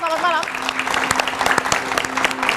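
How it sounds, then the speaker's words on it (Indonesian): A television studio audience at a political talk show claps steadily for the panel guests, a dense patter of hands while a presenter's voice speaks over it. "Tepuk tangan yang meriah untuk narasumber saya pada malam hari ini."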